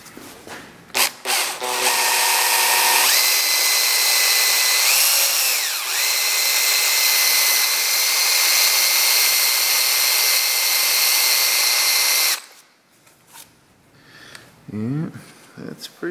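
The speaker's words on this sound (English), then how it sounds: "let's see if this drill can hang in there" A power drill whines steadily at high speed for about ten seconds, its pitch dipping briefly as it bites into a screw with a screw extractor, then cuts off into quieter handling noises.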